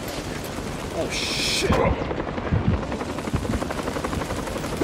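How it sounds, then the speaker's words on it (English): Gunfire in the VR game Crisis On The Planet Of The Apes: dense, continuous rattling shots and impacts with a brief hissing burst, loud and close, while a player mutters a curse over the din. "They be shooting."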